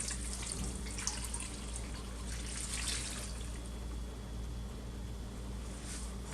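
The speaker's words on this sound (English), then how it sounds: "what I have here is a cup and a half of white vinegar and a cup and a half of apple cider vinegar. So that's going to go right on in here." A cup and a half each of white and apple cider vinegar pouring into a pot for homemade ketchup, a steady splashing trickle that runs close and continuous, with no talk.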